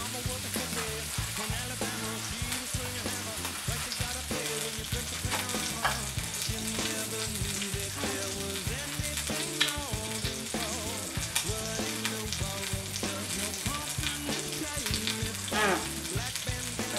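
Bacon sizzles steadily in a pan over low heat, rendering its fat for a mushroom larb dish, a dense, continuous crackle and spatter with no voices.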